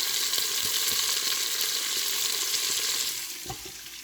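Meat fries in a hot oiled pan with a dense, close, continuous sizzle and crackle that eases slightly toward the end, and no talk.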